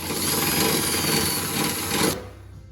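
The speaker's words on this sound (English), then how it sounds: "when you're drilling this, you're a little apprehensive. Just make sure that you're just widening the hole." A drill widening a hole in a Jeep body panel to mount rear granite fender flares: a loud, steady whirring grind for about two seconds, then stopping abruptly, with no speech.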